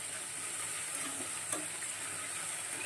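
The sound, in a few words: fish frying in oil on low gas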